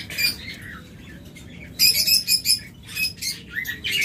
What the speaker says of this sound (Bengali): এরপর রয়েছে আমাদের কাছে বেশ কিছু পাখি ভায়োলেট।